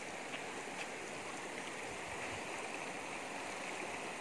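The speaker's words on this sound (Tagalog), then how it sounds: "Kusog kaayong baha." Strong floodwater rushing past, a dense steady roar of churning water heard on its own, with no voices.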